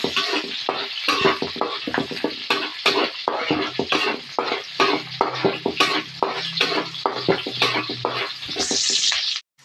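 Garlic and onion sauté in a hot pan for tofu adobo, a loud close sizzle broken by repeated scraping stirs of a utensil against the pan, ending abruptly.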